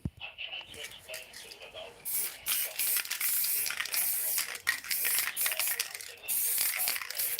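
Short hissing bursts of an aerosol spray can, several sprays with pauses between, close to the microphone, along with some faint handling noise.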